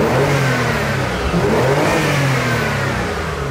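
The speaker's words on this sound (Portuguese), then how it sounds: "Vocês percebem, mano, que ela, o ronco dela, ó, é bem forte, tá ligado?" A twin-turbo car engine revs hard, a loud, close, throaty roar rising and falling in pitch continuously with no voices over it.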